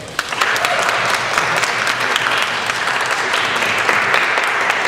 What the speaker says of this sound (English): and Miss Budd, we should give a round of applause for her.